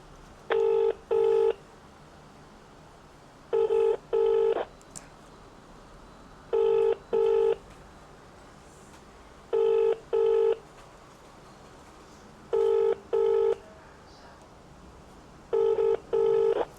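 A telephone call rings out while waiting for someone to answer: six evenly spaced double-ring bursts about three seconds apart, clear and close over a quiet background, with no voices.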